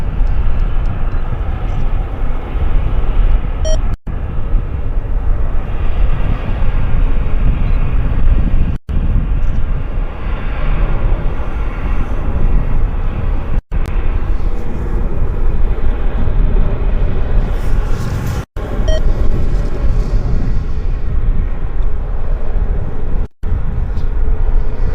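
Aircraft being towed at Vancouver Airport, heard as a continuous loud low rumble of engine and airport noise held throughout, broken by a few brief dropouts.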